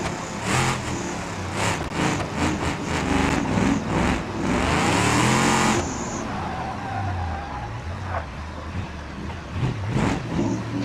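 Custom Super Panther car in BeamNG.drive revving its engine: a series of rapid throttle blips, then a long rising rev that cuts off, followed by a lower engine drone and a few more quick bursts.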